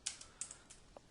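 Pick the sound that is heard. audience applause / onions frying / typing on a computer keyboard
typing on a computer keyboard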